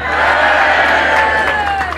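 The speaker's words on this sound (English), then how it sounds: "A big, loud, happy cheer for Harry and Meghan on the birth of their son." A large political rally crowd in Chester lets out a big, loud, happy cheer, a dense wall of voices whooping and shouting that holds steady at full strength for a couple of seconds.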